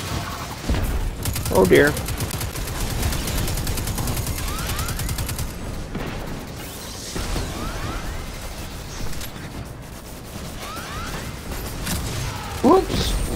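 Rapid automatic gunfire from the video game Destiny 2, dense repeated bursts mixed with sharp impacts and game effects, running under players' voice chat.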